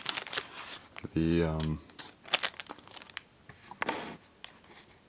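Crinkling and tearing of plastic packaging as a Beyblade PhoenixWing 9-60GF is cut open with scissors, brief rustles and snips around a low buzzy tone, with someone talking over it.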